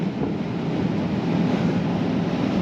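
Strong wind roars in a steady, low buffeting rush, like air rushing past a moving vehicle, with no voices.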